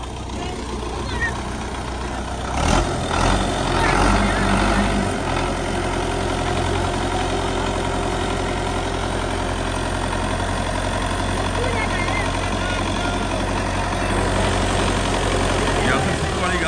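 A Russian tractor engine idles with a steady low rumble from start to finish. A brief knock and some background voices come partway through.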